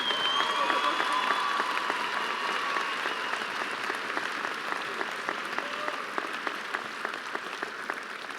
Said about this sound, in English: Let's give our Ranger Pride Award recipients a big round of applause.